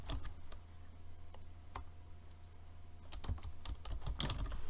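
Someone types a command on a computer keyboard while installing Linux on Windows, with irregular bursts of key clicks over a steady low hum; the keystrokes are close and distinct, with no talking.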